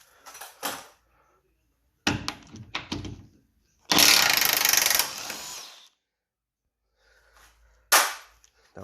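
An impact gun with an 18 socket removes the rear bolts of a suspension wishbone arm. A loud rattling burst of almost two seconds follows a few sharp clanks of tools, and one more clank comes at the end.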